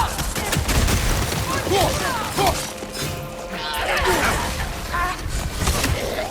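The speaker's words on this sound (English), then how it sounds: "Incoming fire! Left side!" Gunfire erupts in the video game God of War Ragnarok amid crashing and shattering impacts, dense and loud throughout, with shouted voices mixed into the chaos.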